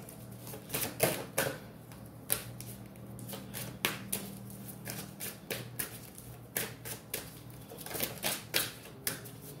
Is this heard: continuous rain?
no